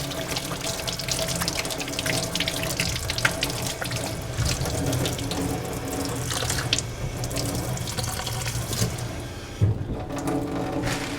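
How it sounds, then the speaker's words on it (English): Hands are rinsed under running tap water at a sink during sterile field preparation. The water streams and splashes steadily and close for the whole stretch, with slight shifts as the hands move under the flow and no talk. "then you're going to rinse thoroughly"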